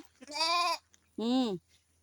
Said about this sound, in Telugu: చూసారా మా గొర్రెలు ఎలా మేస్తున్నాయో